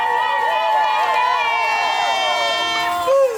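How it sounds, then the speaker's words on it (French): Guests at a civil wedding ceremony cheering and clapping loudly for the groom, a sustained crowd roar with whoops that carries steadily throughout. "On applaudit aussi très fort pour"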